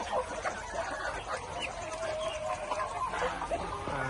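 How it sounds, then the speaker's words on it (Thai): A young black Phu Phan hen clucks and murmurs softly amid busy outdoor farmyard noise, with other birds faintly in the background. "ตัวนี้ก็ตัวเมียนะครับ ยังเป็นไก่สาวอยู่นะครับ"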